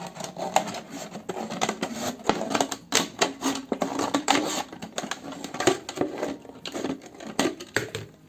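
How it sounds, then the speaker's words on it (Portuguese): Scissors cutting through a transparent plastic PET bottle to remove its bottom, a close run of irregular crisp snips and crackling plastic clicks, fairly quiet with small pauses between cuts. "Nós vamos soltar a parte de baixo utilizando tesoura."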